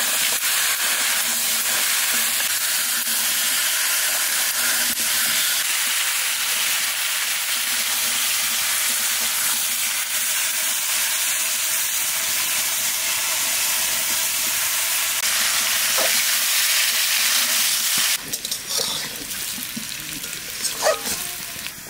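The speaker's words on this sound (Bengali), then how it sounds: "ওলটা ভালো করে বাজিয়ে নিচ্ছি" Chunks of elephant foot yam fry in a pan with a steady, dense sizzle and hiss that holds close and even throughout, shifting slightly near the end as the pieces are stirred.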